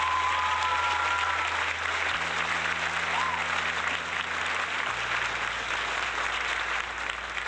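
A crowd applauds steadily, a dense wash of clapping that holds at full strength throughout, with a low hum underneath.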